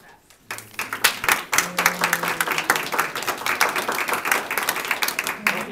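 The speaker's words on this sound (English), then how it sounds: "I would like to give a round of applause for our best practices committee" A small audience at a community best practices forum claps for a committee, the applause starting after a brief quiet moment and continuing as moderately loud, uneven individual claps from a modest group.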